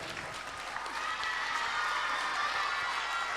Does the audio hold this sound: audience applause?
yes